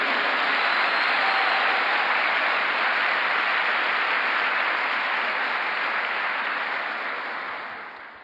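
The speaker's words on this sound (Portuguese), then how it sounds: "por favor, dê um aplauso a Ele" A church congregation applauds together during a Sunday service, a dense, steady roar of many hands clapping at once, loud and sustained before tapering off near the end, with no voices rising above it.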